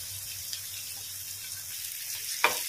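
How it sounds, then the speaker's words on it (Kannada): Mackerel pieces fry in oil with finely chopped onion added, a soft, quiet sizzle with light crackles and a short louder spatter near the end, close by and without speech. "ಈಗ ಸ್ವಲ್ಪ ಫ್ರೈ ಆದ್ಮೇಲೆ ಒಂದು ಈರುಳ್ಳಿಯನ್ನು ಸಣ್ಣಗೆ ಕಟ್ ಮಾಡಿ ಹಾಕ್ತಾ ಇದ್ದೇನೆ"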